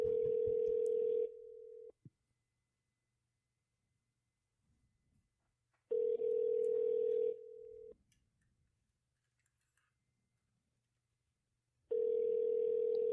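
Phone ringing on an outgoing call to Target, three long rings at steady intervals with silent gaps between them, heard plainly and alone.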